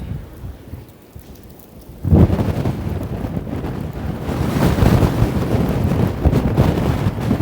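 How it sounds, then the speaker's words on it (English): Strong wind buffets the microphone in a loud, roaring rumble that kicks in abruptly and keeps gusting steadily, on a street in Toronto. "I'm trying my best not to get blown away by this wind here."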